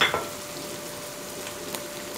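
Minced meat (keema) frying in oil in a pot gives a steady, close hiss of sizzling, with a brief stir-like clatter at the start and a faint pop near the end.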